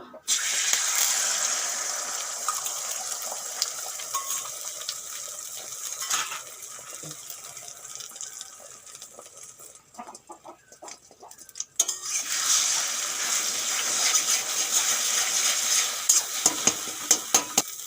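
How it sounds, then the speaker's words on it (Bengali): Two eggs sizzle and crackle in hot oil in a wok, a loud continuous fry up close, briefly quieter midway with a few clinks of a spatula before the sizzling surges again, with no talking. "কড়াইতে তেল দিয়েছি এখন আমি ডিম দুটো ভেজে নেব"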